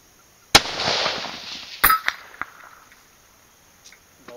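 A .243 rifle firing an 87-grain Vmax bullet at a steel plate rack 400 yards away: one sharp, loud muzzle blast, a brief rolling echo, then a faint distant impact about a second later.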